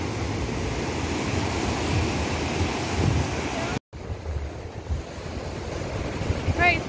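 Surf at Maracas Beach washing ashore, a steady moderate roar mixed with wind buffeting the microphone, broken by a brief cut midway before the waves continue.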